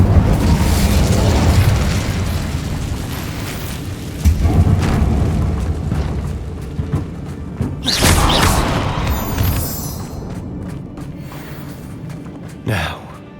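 A burst of fiery magic from an Incendio spell in the Hogwarts Legacy video game, a booming whoosh layered over steady game ambience with further magical swells and pops.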